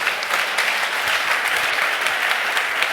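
A church congregation bursts into applause, a dense, steady wash of many hands clapping together at close range, sustained and loud for the whole stretch.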